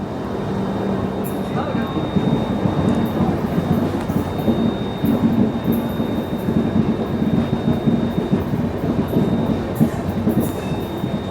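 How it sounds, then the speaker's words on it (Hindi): A train approaches along a curved track with a steady low rumble and rhythmic wheel clatter building over several seconds, while a voice talks faintly beneath. "देखिए सामने से कोई ट्रेन भी आ रही है"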